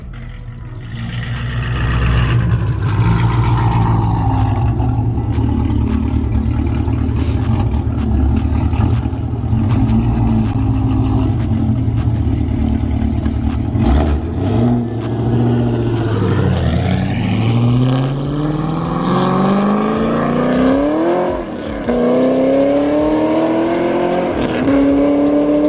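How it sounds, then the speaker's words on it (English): Chevrolet Camaro ZL1 fitted with 2-inch long-tube headers and a 3-inch exhaust, revving loudly and continuously up close, a deep burbling idle rising into repeated climbing high-rpm revs and falling back. "If only y'all were here to hear this car."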